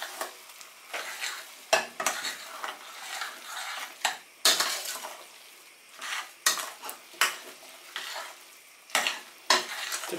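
A spoon stirs melting butter with a pinch of salt in a pan, scraping and clinking against the metal in repeated irregular strokes, with a soft sizzle underneath.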